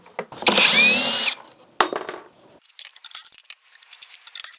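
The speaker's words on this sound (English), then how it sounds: "I've got my impact driver out here to get these caster wheels off" An impact driver spins caster wheels off the base of a heavy 317-pound wood stove, with one loud sustained whir followed by a shorter burst and then scattered faint clicks and rattles.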